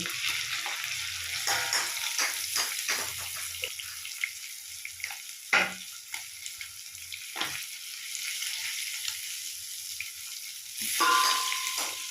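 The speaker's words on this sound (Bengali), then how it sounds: "একইভাবে আমি উল্টো পিঠটাও ভেজে নেব" Hilsa fish pieces fry in oil in a pan, a close crackling sizzle with scattered pops and utensil clinks, fading quieter in the middle before a brief louder burst near the end.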